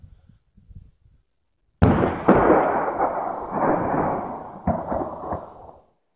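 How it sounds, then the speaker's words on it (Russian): A single loud, booming gunshot blast in wartime Oktyabrskoe, Ukraine, rolling on for several seconds before fading, with a second sharp crack partway through; faint sounds precede it. "Слышны выстрелы."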